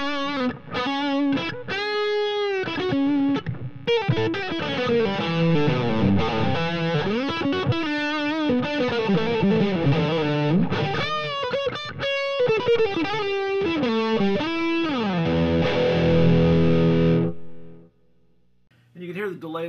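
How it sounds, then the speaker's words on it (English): An electric guitar played through a Blackverb 88 amp with overdrive, delay and reverb rings out in continuous distorted chords and melodic runs with trailing echoes, then fades to near silence at the end. "And you can hear the delayed verb totally does not get in the way."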